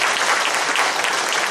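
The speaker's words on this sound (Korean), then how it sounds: "자, 박수하겠습니다." A church congregation at a Sunday service applauds a welcomed member, loud, dense clapping filling the hall without pause.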